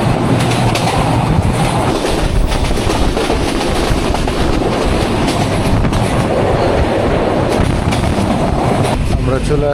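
The Shimanto Express runs on the Rajshahi–Khulna line, heard from inside as a loud, continuous rumble with clattering wheels on rails and occasional metallic squeals near the end.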